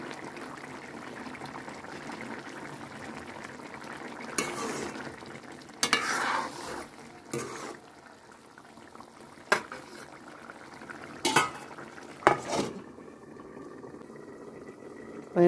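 Paneer curry simmering and frying in a pan, a quiet steady bubbling and sizzle with several sharp clinks and scrapes of a spoon stirring at intervals, no talking.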